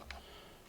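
Two faint, quick key taps on a computer keyboard while a cheat code is entered in the inZOI life-simulation game, heard alone in a quiet room.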